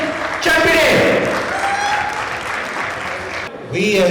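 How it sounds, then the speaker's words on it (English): Audience applause at a JNTU Hyderabad alumni anniversary celebration in New Jersey, a sustained wash of clapping under amplified speech and voices, cutting briefly before resuming with talk. "Please again, give a big round of applause for Mr. Suresh Chapade."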